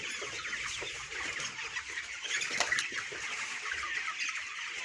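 A flock of broiler chickens clucking and murmuring close by, soft overlapping calls over a steady background hum, with an ailing bird among them.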